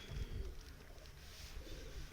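Pigeons coo softly at a rural loft in Adana, far from the city, the low murmuring calls faint and distant against a quiet background hum.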